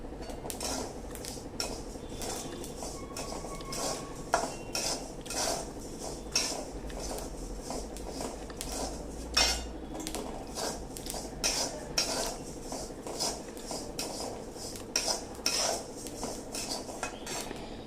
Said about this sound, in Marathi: आता ही बडीशोप मी पक्की भाजून घेते